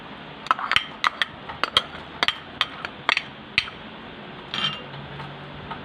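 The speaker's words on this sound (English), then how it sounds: "I will put the apple in the bowl." An apple is set into a bowl while preparing fruit salad at home, giving a run of sharp knocks and clinks, about a dozen quick irregular hits, followed by a softer scraping rattle near the end.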